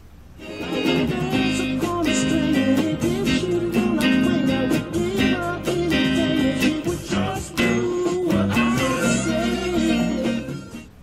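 An electric guitar plays funky strummed chords for a song's pre-chorus. The choppy, rhythmic strumming is bright and close and continues steadily without any voice.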